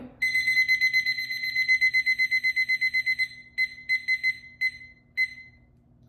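An alarm set as a painting timer beeps in a rapid, regular electronic pattern, then breaks into short spaced bursts before stopping, clear and close with no voices.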